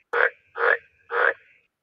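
AI-generated toad croaks for a sound effect: three evenly spaced, loud, raspy croaks about half a second apart, each a short buzzy burst, with no other sound around them.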